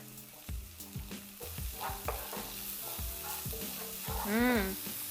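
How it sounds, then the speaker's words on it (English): Shallots sizzle steadily in a hot pan, with a constant hiss broken by the clanks and scrapes of a spatula stirring. "You want to keep hearing the loud sizzling sound."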